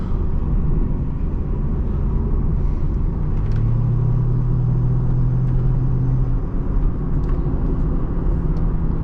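A 2012 Lexus IS350 F-Sport on a test drive gives a steady, loud engine and road rumble from inside the cabin, with a brief rise in low drone midway through and no talk.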